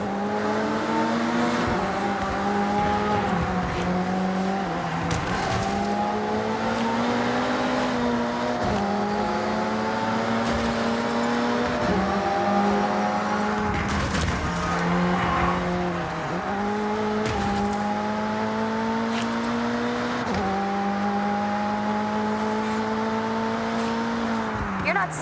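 Race cars in the Forza Horizon 6 video game roar throughout, with steady engine drones that rise through the gears and drop at each shift, loud and close, while people talk over them.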